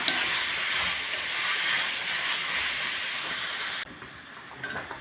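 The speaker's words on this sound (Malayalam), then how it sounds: "ഇതിലേക്ക് അരിഞ്ഞു വെച്ചിരിക്കുന്ന മുരിങ്ങയ്ക്ക ഇട്ട് കൊടുക്കാം നല്ലതുപോലെ ഇളക്കിയെടുക്കാം" Chopped drumsticks (moringa pods) stirred in a hot pan with salt, giving a steady close frying hiss that cuts off abruptly near the end, leaving a quieter scrape.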